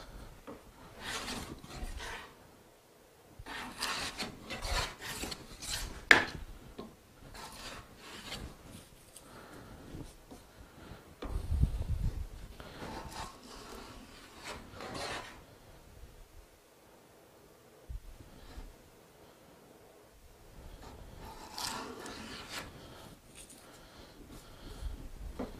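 WoodRiver hand plane taking shavings from a wooden board, heard as soft, close, repeated rasping strokes with brief quiet gaps between passes, fairly faint overall.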